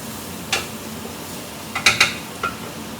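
Garlic, mushrooms and onions are stirred in a pan. A utensil gives a few sharp clinks and taps against the pan, including a quick cluster near the end, over a faint background hiss.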